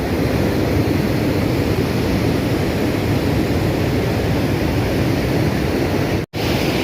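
Perunthenaruvi waterfall in Kerala roars as a steady, dense rush of falling water, loud and close throughout, with a brief dropout near the end.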